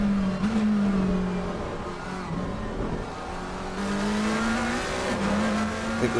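McLaren race car in the ACC sim at Imola, heard from the bonnet view as the engine note climbs through the gears, with sharp shift drops and a steady loud roar while it chases another McLaren.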